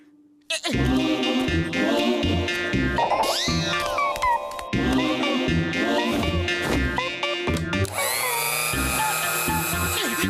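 A cartoon goat bleats in a wavering, nasal voice amid dense cartoon dialogue and music, loud and continuous throughout.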